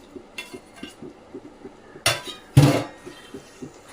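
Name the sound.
oysters being added to a pan of tomato masala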